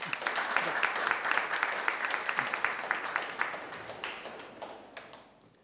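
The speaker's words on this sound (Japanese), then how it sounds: "甲斐弘樹選手、宮崎君代選手に大きな拍手の方お願いいたします。" An audience claps for two runners, Hiroki Kai and Kimiyo Miyazaki, at a press conference and race briefing for the UTMF trail race; dense, moderately loud applause that thins and fades toward the end.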